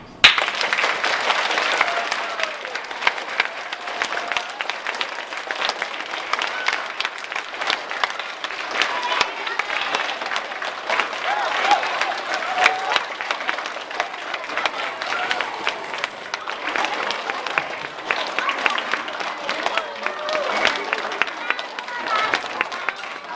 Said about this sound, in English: I never hear this much clapping at my high school, ever.